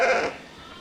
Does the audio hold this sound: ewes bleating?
yes